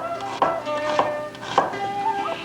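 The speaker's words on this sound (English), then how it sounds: "Cut the onions into thin half-moons." A knife chops onions into thin half-moons on a board, giving several sharp, close knocks at a steady unhurried pace, with no talking.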